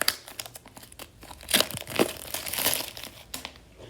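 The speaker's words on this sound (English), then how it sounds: "let's take off this plastic wrap around it first" Plastic wrap crinkling and tearing as it is pulled off the box of KZ ZSN Pro earphones, close and irregular, with a few louder crackling bursts.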